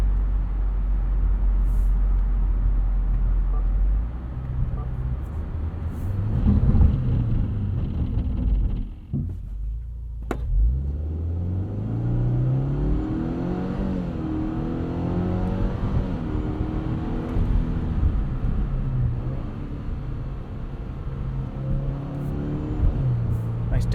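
From inside a 2022 Subaru WRX GT with a CVT, the engine drone repeatedly climbs in pitch under acceleration, broken by simulated shift steps, over a constant road rumble.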